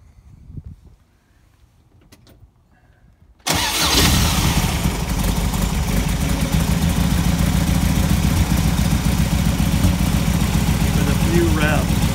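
A Beck 550 Spyder engine cranks and fires after a few seconds of quiet handling noises, then holds a loud, steady close-up idle with a dense throb.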